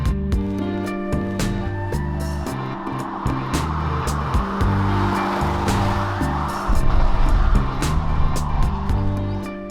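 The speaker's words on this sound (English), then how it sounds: "Let's try the corner with new Korando" A SsangYong Korando SUV takes a corner, its engine droning steadily with shifting tonal hum and a rise in revs near the end, heard from inside the cabin without voices.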